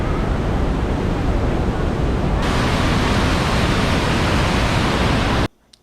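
Bridal Veil Falls at Niagara Falls roars as a dense, steady torrent of crashing water heard from close range, loud and unbroken for over five seconds before cutting off abruptly.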